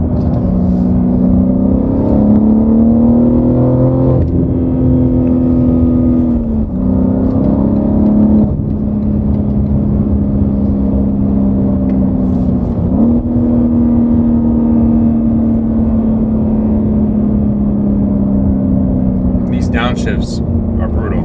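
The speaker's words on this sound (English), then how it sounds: "Downshifts are brutal." BMW G80 M3 with AWE Switchpath exhaust and catted downpipes, heard from the cabin as the engine drones and drops through downshifts with pitch dips and rises, loud and steady; a voice talks over it.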